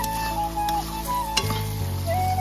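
Mutton kosha being stir-fried in a pan, a steady close sizzle with stirring and scraping and a faint tonal hum underneath, no voices.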